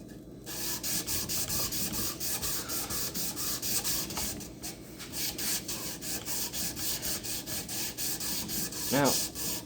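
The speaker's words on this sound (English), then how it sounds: "Alright, so let's finish sanding." Steady back-and-forth rubbing of 280 grit sandpaper on a custom wooden axe handle, sanded by hand in a continuous rhythmic scratch, close and fairly loud, with a brief squeak near the end.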